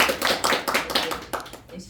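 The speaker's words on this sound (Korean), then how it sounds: "여러분 박수 좀 쳐주세요." Church congregation clapping together, a brief burst of irregular hand claps with voices mixed in, close and fairly loud before tapering off.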